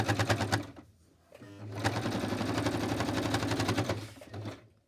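Sewing machine stitching pieces of paper and fabric for a handmade journal, tension set just under 3, a close rapid mechanical clatter in two bursts separated by a short pause, no talking.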